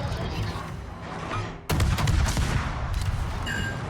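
Rapid naval gunfire from the Gdansk ship in a naval video game: dense, overlapping volleys of booming shots that swell into a louder, sustained barrage partway through, with no talking.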